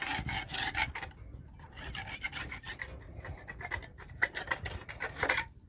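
Rough scraping by hand, a repeated rasping stroke like filing or rubbing wood, steady and close with no talking.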